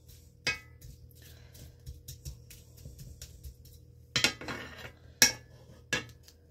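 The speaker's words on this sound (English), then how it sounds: "As these are going, I want to cut up a whole onion." A whole onion chopped into small pieces, a few sharp knife knocks on a cutting board spaced out over a low kitchen hum, close and fairly loud, with no talk.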